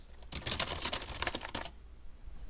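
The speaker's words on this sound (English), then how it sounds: "for the seed, I'm just gonna like pound the keyboard intensely." A computer keyboard is pounded hard in a fast, dense burst of clattering keystrokes lasting just over a second, with quieter room sound before and after.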